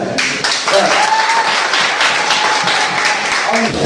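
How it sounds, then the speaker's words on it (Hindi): A crowd applauds steadily and loudly at a ring ceremony, with dense clapping that holds for several seconds and a faint voice or tone underneath. "इसलिए एक ताली तो बनता है।"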